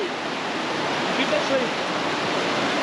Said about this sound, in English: The river's obviously quite strong